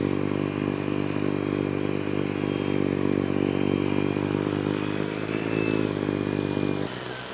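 A Ryobi battery-powered two-stage snow blower runs with a steady, loud motor drone and auger whir, holding constant for several seconds before dropping slightly in level near the end.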